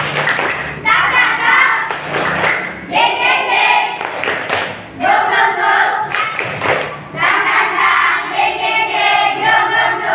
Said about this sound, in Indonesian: mari sama-sama kita bertepuk semangat terlebih dahulu